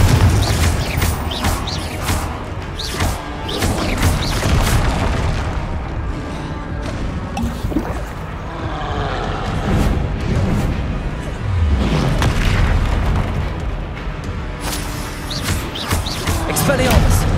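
Blasting spells fired in a wizard duel in Hogwarts Legacy, with repeated sharp booms and crashing impacts over a busy background of combat, as a voice calls out spell names.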